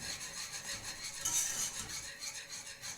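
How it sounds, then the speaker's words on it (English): A whisk scrapes and rubs around a pan while white cheddar and Parmesan melt into a smooth cheese sauce, with steady close metallic swishing throughout and no voices. "just keep cooking it and whisking until you don't see any more lumps"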